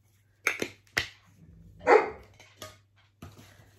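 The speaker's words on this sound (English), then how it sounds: "That's our dog." A pet dog barks indoors in a few sharp, close bursts, with one longer louder bark near the middle and a final quieter yip after a pause.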